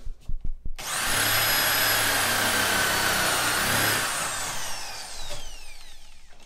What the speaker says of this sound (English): This bit responds better with an electric drill than even like a 20-volt portable drill